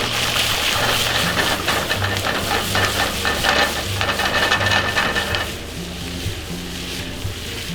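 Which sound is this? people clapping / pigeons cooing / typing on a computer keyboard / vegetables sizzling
vegetables sizzling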